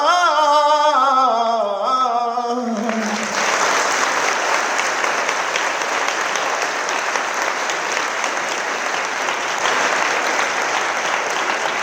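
An audience claps in sustained, dense applause at a gathering, loud and continuous for about nine seconds after a brief stretch of singing at the start.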